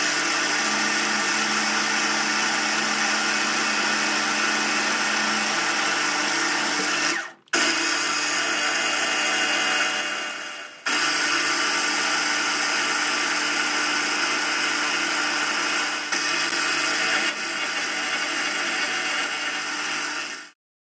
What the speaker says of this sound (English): I'm going to drill the oil pipe and the pump plunger bunghole.